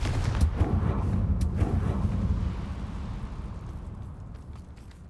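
Confringo fire spell blasts in the video game Hogwarts Legacy, a few sharp bursts near the start followed by a deep rumbling roar that slowly dies away.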